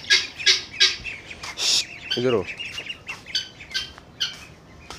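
Pigeon chicks call in a series of short squawks and chirps, close by, with people talking over and between them at home among pet pigeons.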